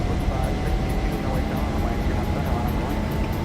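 A Boeing 737-900 in the X-Plane 11 flight simulator starts its takeoff roll, producing a steady, loud jet engine roar with a thin high whine over a rumbling base.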